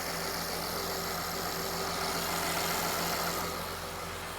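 A Mercedes-Benz GLS 450 engine idles steadily up close, a continuous even hum with a slight rise in level midway, and no voices over it.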